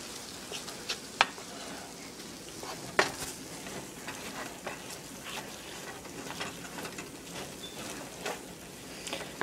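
Olives drop into a hot frying pan for a Spanish dish, giving a steady low sizzle with a few sharp clinks and stirring scrapes scattered through it, with no talking.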